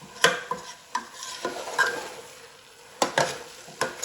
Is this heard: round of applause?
no